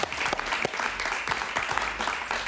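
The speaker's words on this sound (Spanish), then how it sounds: "Un aplauso para él, por favor" Audience applause at a Spanish-language interview, a strong, dense burst of many hands clapping close by, with sharp individual claps standing out through the steady roar.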